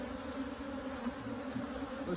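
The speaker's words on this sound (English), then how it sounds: "Nice load of bees on the outside frame" Honey bees buzzing at a nucleus hive with a load of bees on the outside frame, a dense continuous drone close to the microphone, steady and moderately quiet throughout.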